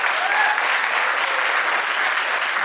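Audience members give a panel one big round of applause, a short burst of thick, continuous clapping that stays loud throughout.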